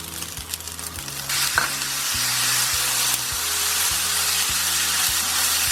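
Vegetable fried rice sizzles loudly in a hot pan, tossed and stirred with soy sauce and pepper, a steady close frying hiss broken by scraping stir strokes over a low rhythmic music bed.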